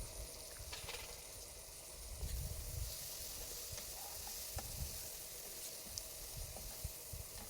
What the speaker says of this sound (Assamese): মাংসখিনি যেতিয়ালৈকে মছলাটো পূৰা সোমাই নাযাব তেতিয়ালৈকে আমি ভাজি থাকিম অলপ।